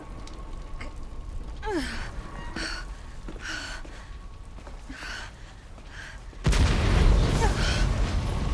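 A loud explosion erupts in Resident Evil 2 Remake with a sudden broadband blast that stays heavy and rumbling to the end, following a stretch of game sounds and gasping vocal noises.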